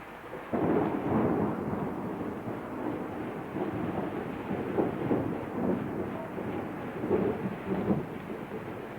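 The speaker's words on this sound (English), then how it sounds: "Yeah, great lightning storm." Rolling thunder from a lightning storm rumbles loud and long, a deep continuous roar with surging swells, recorded on a 1990s cassette tape.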